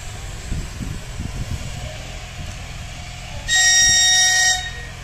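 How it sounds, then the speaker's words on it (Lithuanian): A train horn sounds loud and steady for about a second near the end while a train departs Šiauliai station in summer, over low rumbling rail noise throughout. "Šiandien esame Šiauliuose ir žiūrime, kaip išvyksta traukiniai."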